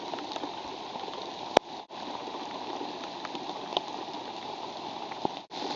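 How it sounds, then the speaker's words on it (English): Heavy rain pours steadily at a base camp, a dense, continuous hiss of water on surfaces with a few brief louder drops and knocks scattered through it. "It's absolutely pouring, as Jason wil"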